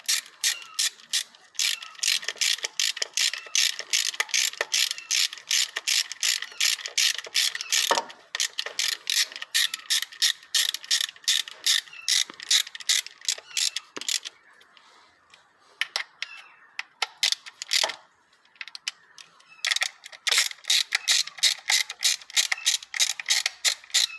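Ratchet rapidly clicking as cover bolts are tightened on a MkVII VW Golf TSI engine, close bursts of fast metallic pawl ticks separated by short pauses.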